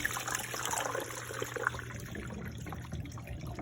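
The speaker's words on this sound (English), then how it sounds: "we're gonna pour it out so you guys can really get kind of like an idea" Loc detox rinse water poured out of a basin, a soft steady trickle and splash running close by for a few seconds, no talk over it.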